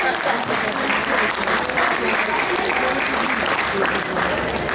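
A convention crowd at a cosplay event applauds performers on stage, a loud, sustained roar of clapping blended with crowd noise and some voices, holding steady without a break.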